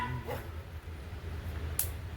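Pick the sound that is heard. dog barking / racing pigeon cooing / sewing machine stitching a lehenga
dog barking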